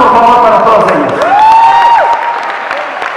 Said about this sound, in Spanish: Un aplauso por favor para todas ellas.